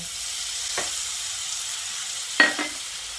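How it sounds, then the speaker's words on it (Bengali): Pointed gourd and tomato sautéing with spices in a pan: a faint, steady sizzle with a couple of brief scraping strokes from stirring, the louder one near the end, and no voices. "টমেটোটা দিয়ে আরও কিছুক্ষণ কষিয়ে নিতে হবে।"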